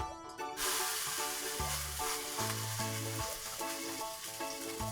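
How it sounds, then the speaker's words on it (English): Hamburger steak patties frying on an overly hot skillet, a loud continuous sizzle and hiss up close, with background music underneath. "now we're going to cook them on the skillet"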